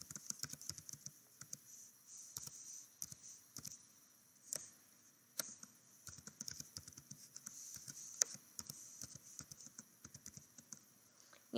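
A password is typed on a computer keyboard as a quiet, uneven patter of close key clicks, with short pauses between runs of keystrokes.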